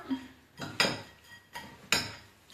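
A mixture containing xanthan gum binder stirred in a bowl, producing rhythmic clinking and scraping of a utensil against the bowl, four or five strokes in a regular back-and-forth pattern, close and fairly quiet.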